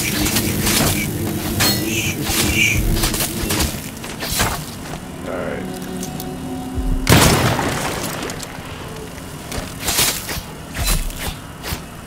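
Shooting down an enemy in the video game Dishonored 2, with heavy booming impacts, crashing and shattering debris, and a loud burst near the middle followed by scattered clinks and thuds.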